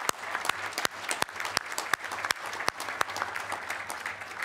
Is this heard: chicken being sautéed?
no